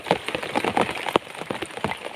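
Rain falling steadily on a reservoir during a fishing session, a dense patter of drops with a few sharper splashes close by, heard on its own without talk.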